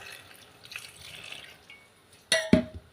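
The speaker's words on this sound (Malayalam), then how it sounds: "ഇനി കാല് ഗ്ലാസ് വെള്ളം ഒഴിക്കാം" A quarter glass of water pouring into a mixer jar of ground ingredients, a quiet trickle with soft drips and a splash, then two sharp, louder liquid splashes and clinks near the end, with no talking.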